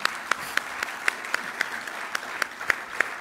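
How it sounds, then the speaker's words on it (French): An audience applauds steadily at a football awards ceremony, a dense wash of clapping with a few sharper individual claps standing out throughout. "je voudrais aussi qu'on l'applaudisse très fort"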